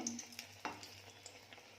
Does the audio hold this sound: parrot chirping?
no